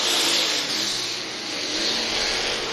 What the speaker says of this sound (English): Working off at turn number 4 and down the front straightaway, it will be Jeff Mueller, your race leader.